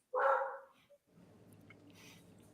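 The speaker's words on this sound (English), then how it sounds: "My dogs will bark at anything." A single loud dog bark up close, followed by a faint yip and then quiet indoor background noise.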